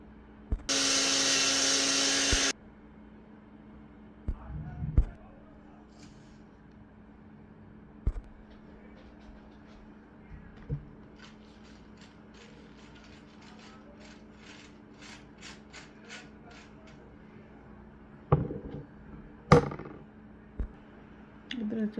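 A kitchen mixer grinder powders moong dal for laddu. It gives a loud, steady high whir for about two and a half seconds, then stops, followed by scattered clicks, taps and handling noises from the jar.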